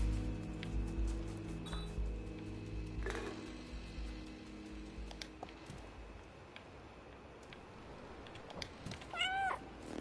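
A cat meows a few times near the end, short rising cries close by and moderately loud, after stretches of low humming room noise and scattered small ticks and taps.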